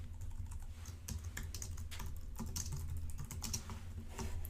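Steady, close clicking of fingers typing code on a computer keyboard during an object-oriented programming lesson, a continuous run of quick keystrokes with no voices.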